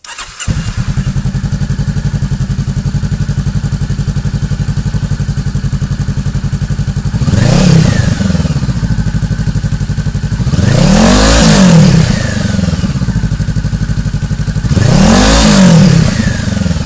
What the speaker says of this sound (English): So here goes the GP titanium with DB killer in, so you can hear how it sounds.